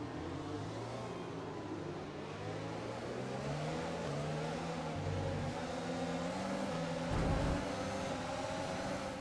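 In a racing video game, F1 cars launch off the grid at Bahrain, their engines rising together in a whining, layered roar that swells steadily with no voices.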